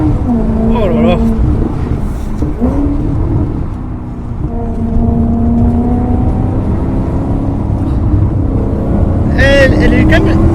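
A Maserati GranTurismo S engine revs and accelerates up close, its strong, tonal note rising and holding, with brief shifts and a sharp rev near the end.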